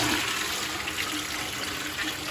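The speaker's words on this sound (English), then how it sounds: "how do you think you flush this toilet?" A toilet flushed by pulling out a knob, in a bathroom in Tirana, Albania, sends a steady, close rush of water that continues without a break.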